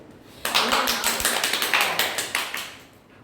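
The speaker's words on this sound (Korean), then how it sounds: "지금 여기서 진짜 박수예요, 박수" Steady hand clapping, a quick run of sharp, evenly spaced claps close by and fairly loud, starting abruptly and continuing for nearly three seconds with no talking.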